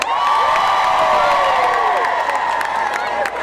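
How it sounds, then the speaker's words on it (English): A large live crowd at a stage show applauds and cheers continuously, with whoops and shouts rising over steady loud clapping throughout. "how about one more real big round of applause for Jason Pritchett?"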